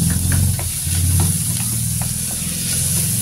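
Chopped onions and finely diced tomatoes sizzle steadily in a hot pan for a hotel-style vegetable kurma, with a constant frying hiss broken by soft, repeated scrapes of the stirring spoon, close and loud, with no talking.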